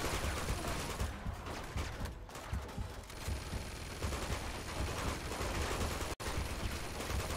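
Sustained automatic machine gun fire rattles continuously in Uncharted 2: Among Thieves on Crushing difficulty, dense and loud throughout with a brief dropout near the end.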